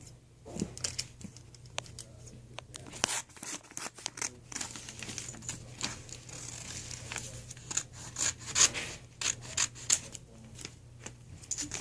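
Scissors snip through paper coupons in a quick run of sharp, close cuts mixed with light rustling and crinkling of the paper, with no talking.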